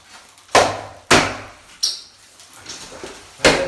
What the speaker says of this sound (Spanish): aquí se pega con el martillo